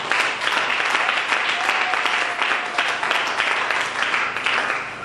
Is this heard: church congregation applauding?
yes